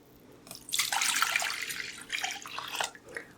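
Cool water pours from a tap over salted zucchini in a kitchen, a steady close splashing stream that tapers into a few trickles and drips.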